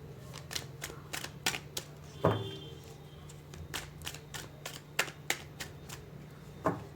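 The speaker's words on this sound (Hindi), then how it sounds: "कार्ड्स मैं आप लोगों के सामने ही शफल करूँगी" Tarot cards are shuffled by hand at close range, giving a rapid series of sharp papery clicks and riffles at irregular intervals, fairly quiet against a low background hum.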